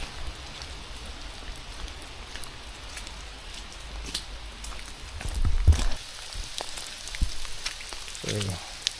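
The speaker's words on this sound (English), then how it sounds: "it's pretty rainy today" Steady rain falls outdoors on a dark night, a constant close patter on surfaces with a few louder drips and some handling noise, and no one speaks.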